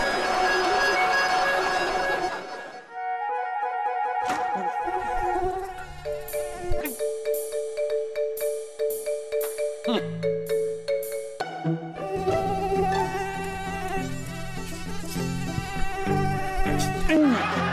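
Mosquitoes buzz in a high, wavering whine amid a domestic comedy scene, with tonal electronic-sounding music and brief sound effects layered on top, the buzzing loud and close.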